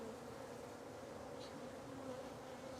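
Steady, close hum of honey bees buzzing on a hive frame holding sealed brood and larvae, a continuous drone throughout with no talking.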